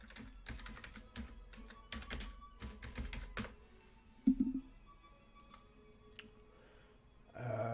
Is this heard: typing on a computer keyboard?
yes